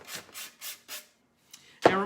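Sanding a craft piece of black-painted metal to bring the metal back through, four quick rhythmic rasping strokes, a short pause, then a louder scrape, all close up.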